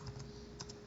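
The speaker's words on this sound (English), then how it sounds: "Oh, wow, bad typing." Fast, light keystrokes clatter on a computer keyboard in a short, uneven burst of clicks, quiet and close with no voices.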